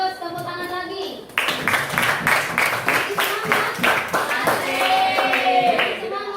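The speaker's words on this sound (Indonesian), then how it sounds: "Bagus, tepuk tangan lagi." A school class claps in rhythm, a run of about a dozen sharp, evenly spaced claps after a spoken line, with teacher and children's voices heard alongside.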